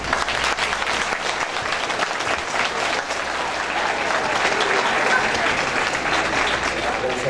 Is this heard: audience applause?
yes